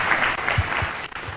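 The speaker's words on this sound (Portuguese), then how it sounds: "E vamos aplaudir o Senhor." Church congregation applauding during a Sunday worship service, a steady wash of many hands clapping at moderate level with no clear speech over it.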